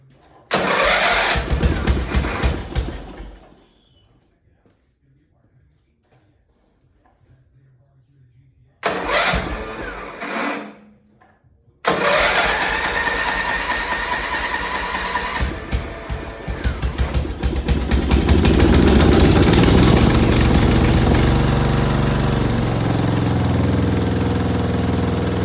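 A Briggs & Stratton I/C Gold 12.5 engine on a Craftsman lawn tractor, choke on, cranks in two short bursts and then catches, settling into a loud, steady run with a rising rumble that stays up close and alone.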